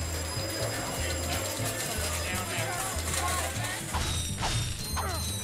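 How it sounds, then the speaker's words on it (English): Bright metallic chings from bolt pickups in the original Ratchet & Clank game, a casino-like jingle repeated rapidly over busy game sound effects with thumps and clanks, moderately quiet. "The ching sound behind the bolts every time you grab one is modeled after the sounds you would hear in a casino"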